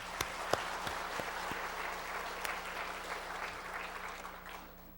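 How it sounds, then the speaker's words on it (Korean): A church congregation claps after a rousing worship song at a Korean service, a steady round of applause with a few sharp, close claps standing out, fading slightly at the end. "우리 한번 박수 한번 하겠습니다"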